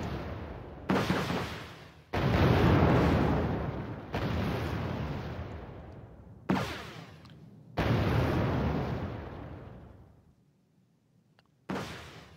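Rockets and explosions slam into an M1A2 tank in the strategy game Wargame: a series of loud booming blasts, each decaying into a rumbling tail. There are roughly six impacts spaced a second or two apart, and no talking.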